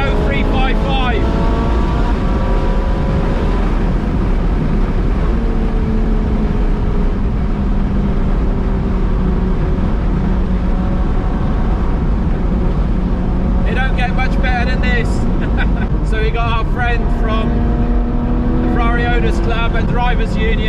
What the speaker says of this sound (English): yellow 355 with what you can probably hear is Capristo exhaust system, and that car sounds absolutely awesome